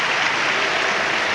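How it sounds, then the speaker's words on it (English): A crowd applauds at a 2002 European weightlifting championship in the 62 kg class, with steady, dense clapping that fills the short moment at a loud, even level and has no talk over it. "he's got the crowd applause on his side there"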